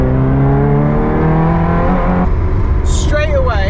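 A Ferrari daily driver on a damp road test, its engine revving up through rising tones then easing off after a gear change, loud and steady close to the car.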